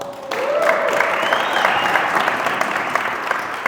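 Steady audience applause and crowd cheering greeting a real estate coach and founder as he is introduced at a live event, loud and sustained throughout, with a faint voice briefly cutting through.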